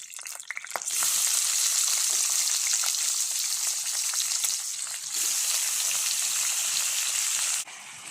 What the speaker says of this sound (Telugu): సో ఇలా వేడెక్కిన నూనెలోకి వెంటనే టమాటాలు కూడా వేసేసి